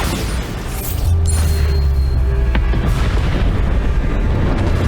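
A Bombarda spell explosion in Hogwarts Legacy lands as a deep, booming blast about a second in. It leaves a loud, sustained low rumble that fills the rest of the moment, with no voices.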